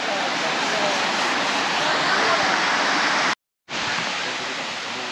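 A river flowing below the path gives a steady, loud broadband rush like a waterfall, continuous apart from a brief cut near the end, with no talk over it.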